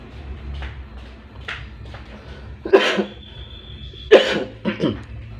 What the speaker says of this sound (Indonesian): sedikit batuk